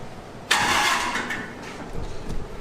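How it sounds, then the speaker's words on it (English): A starter motor cranks a Cummins diesel engine fitted in a Mustang: an abrupt loud whirring burst that holds for about a second, then fades into rougher, uneven churning. "I'm like, oh my God, this is just a starter motor."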